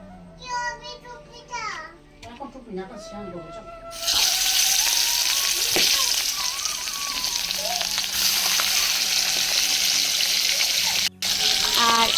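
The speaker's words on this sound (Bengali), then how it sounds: "আমার মাছের মাথাটা কড়াইয়ের মধ্যে দেওয়া হয়ে গেছে এবং মাছের মাথাটা ভাজা হচ্ছে" Rohu fish heads rubbed with turmeric and salt drop into hot oil in a wok and set off a loud, steady sizzle that runs on without pause, after a few seconds of quieter kitchen clatter and voices.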